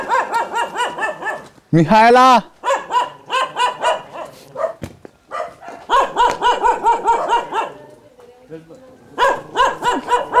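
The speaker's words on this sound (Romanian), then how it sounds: "poate sare câine." A dog in a yard barks in repeated loud, close bursts with short pauses, rising into a sharp yelping howl near the start, while a person calls out once.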